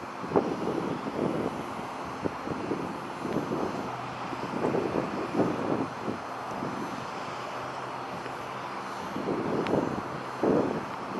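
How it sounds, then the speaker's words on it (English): Delta Boeing 737-900 pushing back at an airport in Northeast Ohio, a low steady jet engine rumble with tug and ground noise, heard at moderate distance and mixed with wind on the microphone, no talking. "we have a Delta 737-900 that is pushing back"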